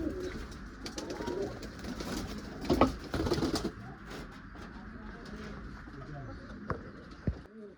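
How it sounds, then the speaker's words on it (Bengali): A female pigeon with white eyes, a white beak and red-purple feet coos softly and intermittently close by, amid faint background murmur and scattered light knocks. "এই হচ্ছে মাদি পায়রা"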